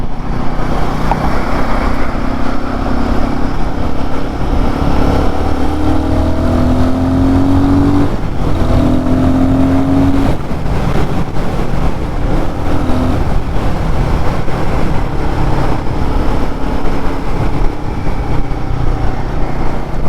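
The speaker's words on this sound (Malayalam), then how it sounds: "എക്സോസ്റ്റ് നോട്ട് എനിക്ക് ഭയങ്കരമായിട്ട് ഇഷ്ടപ്പെട്ടായിരുന്നു" A Royal Enfield Guerrilla 450 motorcycle engine and exhaust note heard while riding, loud and continuous with rising and falling engine tones and steady wind rush throughout.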